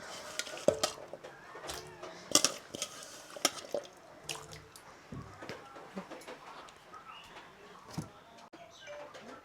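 Four small-cut potato pieces drop into a pot one by one, making scattered clunks and clinks with quiet gaps in between, close and fairly soft.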